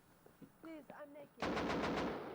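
Rapid automatic gunfire in the survival video game Rust, a loud burst of about six quick shots that rings on after a voice speaks Turkish.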